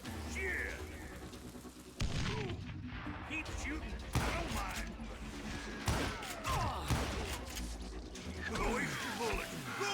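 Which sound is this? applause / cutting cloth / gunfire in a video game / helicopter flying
gunfire in a video game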